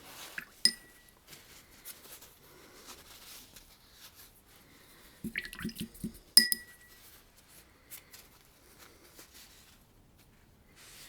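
Water and acrylic medium being added into a glass or palette while mixing paint, with sharp glassy clinks and a quick cluster of taps, separated by long quiet gaps and faint handling noise.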